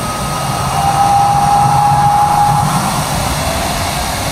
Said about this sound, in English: is that the sound of the plane that's so loud